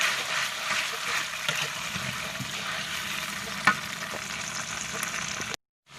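Chilli sambal sizzles steadily in a pan with pounded spices, a constant close frying hiss with one brief clatter, cutting to silence at the end.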